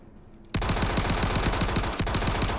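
A sudden burst of rapid automatic gunshots in Star Citizen, loud, close and steady, firing continuously for about two seconds after a quiet start.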